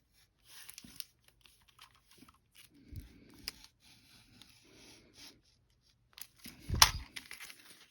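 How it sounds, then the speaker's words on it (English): A sharp razor slices a window into a plastic comic book bag, giving quiet intermittent scraping and crinkling strokes, then a louder rustle of plastic near the end. "cut a window right here in this bag. Pretty simple. Nice sharp razor."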